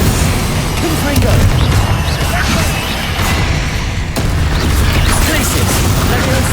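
Fiery Confringo spell blasts in Hogwarts Legacy on PC, booming and crashing amid dense, continuous combat noise with whooshes and impacts throughout.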